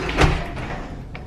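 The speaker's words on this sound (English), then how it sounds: "it has a glass door that slides" Glass shower door sliding along its track in a cruise ship cabin bathroom, one short rolling scrape with a soft knock near the start, close and moderately loud, then quiet room tone.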